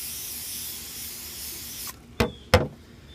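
Deep Woods Off insect repellent sprayed from an aerosol can onto a cloudy, no-longer-clear car headlight lens: a steady hiss fades out, then two short, sharp spray bursts follow close together, with no talking.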